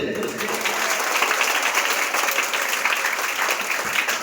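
An audience applauds at the opening of a government higher secondary school arts festival in Pezhakkappilly. The clapping is loud, dense and sustained, with voices heard faintly through it.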